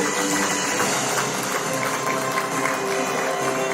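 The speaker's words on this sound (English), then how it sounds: "Huge round of applause for Mr. Vikas Besson." Steady applause fills a hall at a teacher award ceremony, a dense continuous wash of clapping from a large audience that holds at an even level throughout.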